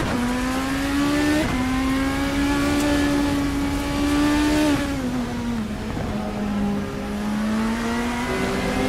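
Race cars lap a circuit at the Okayama Grand Prix in a racing video game, engines droning loud and steady with rising and falling pitch as they pass and shift.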